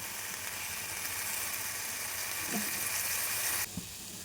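Spices sizzle in hot coconut oil for an old-style biryani, a constant even hiss and crackle held close, with a soft clink near the end as the sizzle briefly drops.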